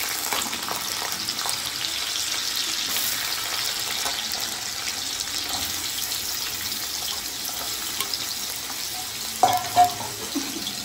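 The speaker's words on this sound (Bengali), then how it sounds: "পেঁপের টুকরোটা দেওয়ার পর ভালো করে একটু ভেজে নিচ্ছি।" Papaya pieces fry in hot white oil in a wok, a dense continuous sizzle that holds steady throughout, ending with a couple of louder clinks and knocks from a utensil.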